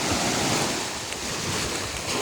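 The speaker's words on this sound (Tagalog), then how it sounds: "Lakas ng alon." Ocean waves roar in a dense, continuous rush of surf, mixed with heavy wind buffeting the microphone.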